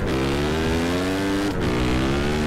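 Car overtaking another in GTA San Andreas, a loud close engine with rising revs that dips briefly on a gear change and then climbs again, racing past.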